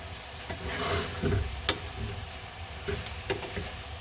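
Shrimp sizzle and crackle in a hot stir-fry pan for a Filipino or Okinawan bitter melon stir fry, with a steady frying hiss, a few sharp pops and occasional scraping stirs, close and moderately loud.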